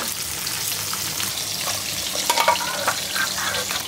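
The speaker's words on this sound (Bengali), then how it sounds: "মাছে এত তেল দিয়ে ভাজছি" Fish frying in a generous amount of oil gives a steady close sizzle with crackling spits and pops, louder bursts midway, and no talk.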